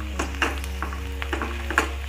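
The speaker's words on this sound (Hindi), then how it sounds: "ये आलू थोड़े से फ्राई हो जाए" Potatoes fry gently in a pan over a low gas flame, giving a soft, steady sizzle with a few faint ticks and pops over a constant low hum, with no voices.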